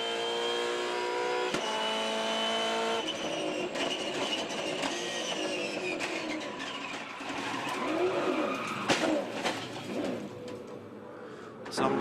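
A Supercars race car sliding on oil at the Symmons Plains hairpin, its engine note bending and squealing as the tyres lose grip, heard from a distance over a trackside roar.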